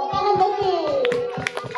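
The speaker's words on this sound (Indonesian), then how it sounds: "Tepuk tangan Besti." A small group claps rhythmically, roughly six or seven even, close hand claps, while a voice or tune carries on over the clapping.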